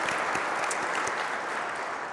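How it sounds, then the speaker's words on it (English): Conference keynote audience giving a sustained round of applause, dense steady clapping filling the hall without talk. "So a hand of applause for these folks"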